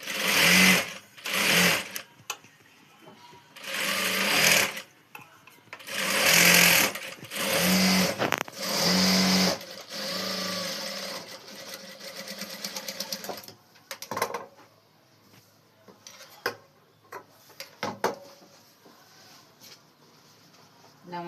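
Sewing machine stitching a blouse in bursts of a few seconds each, close and loud, with quieter handling noises and short clicks between runs.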